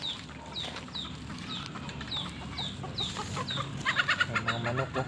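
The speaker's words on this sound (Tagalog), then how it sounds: "May mga manok oh." Chickens in a rural backyard give a run of short repeated clucks at a steady pace, then louder, busier cackling near the end, fairly close with light background noise.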